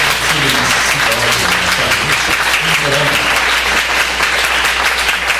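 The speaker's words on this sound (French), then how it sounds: "qui mérite une main d'applaudissement" Loud, sustained applause from a large crowd, with a few voices cheering or calling out over the clapping.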